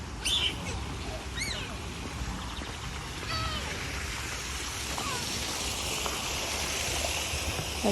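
A flowing stream gives a steady, broad rushing wash that stays constant throughout, with several bird chirps over it outdoors.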